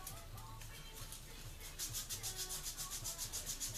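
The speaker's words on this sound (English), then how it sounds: "Take some sandpaper and sand inside this groove in here that your primer slide down." Sandpaper is rubbed by hand inside the primer slide groove of a reloading primer alarm, a steady close scratchy sanding that turns into quicker rhythmic back-and-forth strokes partway through.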